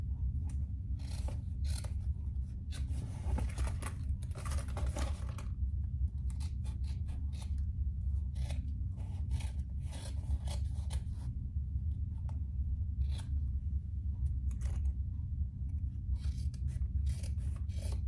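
Scissors snip steadily in quick, repeated cuts as something is trimmed lightly, a close, crisp sequence of blade closes over a constant low background hum, with no talking.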